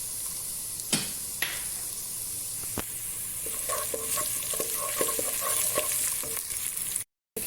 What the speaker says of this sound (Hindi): फ्लेम को ऑन किया है और प्याज को फ्राई करेंगे।